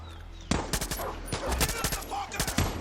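Rapid bursts of gunfire in the video game Far Cry 6, sharp repeated shots in quick clusters over a low ambient hum.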